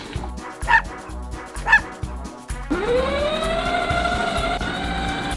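A toy puppy dog gives two short electronic barks, near and clear over a repeating beeping melody, then a siren-like rising electronic tone takes over and keeps going.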